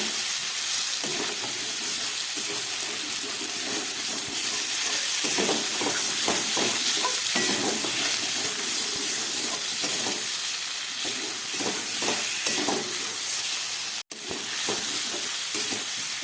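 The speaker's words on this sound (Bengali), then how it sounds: "এবার আমি এই ভেজে রাখা কপি আর আলুটা দিয়ে দিলাম" Fried cauliflower and potato pieces get stirred into a sizzling spice paste in a pan for a fish kalia, with steady frying hiss and repeated scraping strokes of a spatula, close and continuous.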